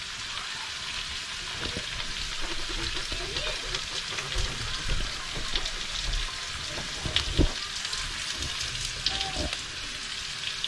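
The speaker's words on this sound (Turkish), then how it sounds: "Ateşte patates kızartma sen." Potatoes frying in a pan over an open fire outdoors, a steady close crackling sizzle with scattered pops and clinks.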